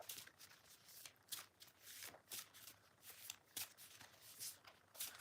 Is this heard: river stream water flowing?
no